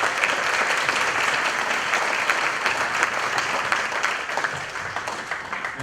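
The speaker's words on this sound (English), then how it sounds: "So how about a big round of applause for staff." A museum audience at a panel discussion gives a sustained round of applause, dense steady clapping from many hands that fills the room evenly from start to finish.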